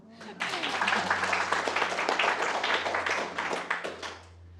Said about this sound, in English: So give her a clap.